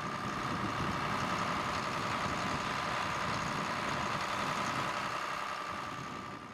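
A tractor engine hums at a steady idle-like drone while GPS auto-steering guides it across a field, a continuous low rumble with a faint tonal whine, fading slightly at the end.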